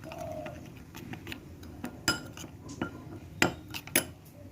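Soybean curry stirred with a little water in a pan after turmeric goes in: light metallic clinks and taps of a spoon against the pan, scattered and irregular, close and fairly quiet over a low background hum.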